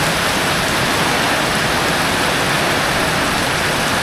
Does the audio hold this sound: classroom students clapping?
no